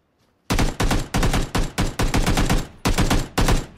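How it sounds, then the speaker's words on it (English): Video game gunfire, a rapid series of about ten loud, close shots in quick bursts after a brief quiet opening. "I'm just shooting this red line."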